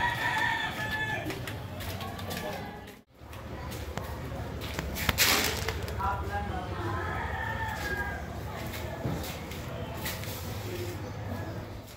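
A rooster crows through an outdoor background that stays noisy throughout, the harmonic call rising over the hubbub for a few seconds mid-clip.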